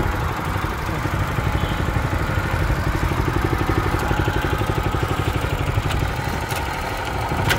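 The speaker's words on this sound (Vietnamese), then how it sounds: "Máy nổ rất là im luôn." Yanmar NFA70 diesel walk-behind tractor engine idling close by with a steady, even chugging rumble that stays constant throughout, with occasional faint clicks and no speech.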